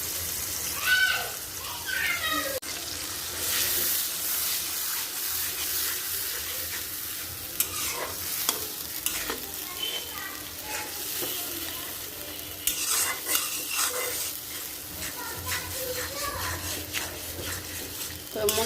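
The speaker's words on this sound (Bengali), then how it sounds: "তো মশলাটা হচ্ছে ভাজা ভাজা হোক" Spice paste with chili frying in a pan, with a steady broadband sizzle and scraping stir strokes running throughout at moderate level, and faint background sounds mixed in.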